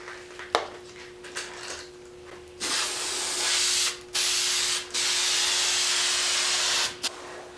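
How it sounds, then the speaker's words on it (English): Super 90 spray adhesive hisses from an aerosol can onto a car headliner for an MK4 Jetta, in several loud sustained bursts separated by short pauses, after a few quiet clicks and taps. "make sure that you spray underneath all the edges and fold them over and around the back of the headliner"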